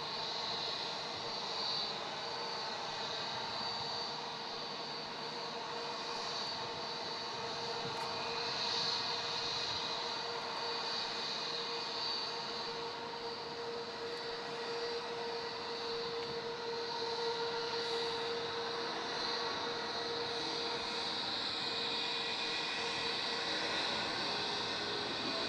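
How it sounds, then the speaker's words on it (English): A Jetstar Airbus A320 at Melbourne Airport gives off a continuous, fairly faint jet engine hum with a steady high whine that lasts throughout. "It's a shame we've got this Jetstar 320 drowning out the sound."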